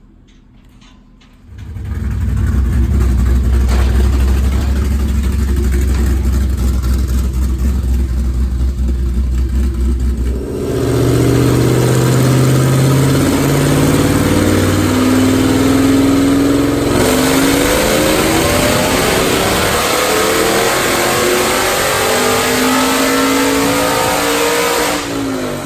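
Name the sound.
2014 Ford Shelby GT500 with Brenspeed cams on dyno run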